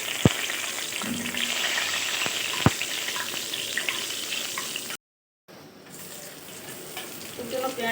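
Onions fry in hot oil with whole garam masala and bay leaf for Bengali chicken kosha, making a steady crackling sizzle with a couple of sharp utensil taps, broken by a brief cut to silence before the frying resumes.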